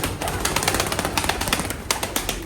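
Champion pigeons in a loft, with soft cooing under a busy texture of quick rhythmic flutters and scratchy bird movements, close and continuous throughout.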